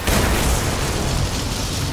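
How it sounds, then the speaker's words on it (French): Placed explosives go off in the video game Dishonored, a loud sustained blast filling the moment with dense rumbling roar and no voices. "On va quand même regarder l'explosion en fait."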